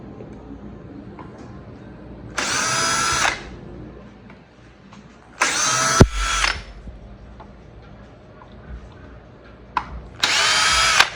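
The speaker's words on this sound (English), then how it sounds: "There's a little bit of Loctite used, so it's better if you have a drill to get them out." A power drill with a hex bit whirs in three short, loud bursts while backing Loctite-secured bolts out of a Levy electric scooter, with a clunk between runs and quiet pauses in between.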